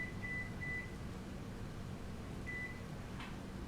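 Short electronic kitchen timer beeps, two quick tones near the start and another later, faint over a steady hum of kitchen background noise while quinoa cooks.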